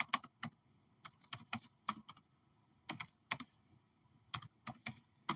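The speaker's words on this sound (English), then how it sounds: "Let's just type that in." Computer keyboard typing comes in short clustered bursts of crisp, close key clicks with brief pauses between words, and no voices.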